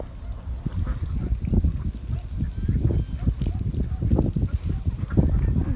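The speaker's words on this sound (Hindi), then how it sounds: "डक्स इतनी सारी और इतनी प्यारी।" A large flock of ducks quacks and honks continuously at close range during an outdoor hike near Jeddah, with dense overlapping calls and a faint voice in the mix.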